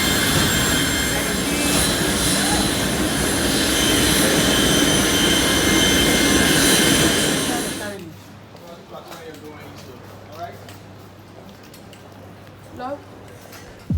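An airliner cabin just after landing in Abuja fills with a loud, steady engine and rolling roar for about eight seconds, then drops to a quiet low hum with scattered voices and small cabin noises.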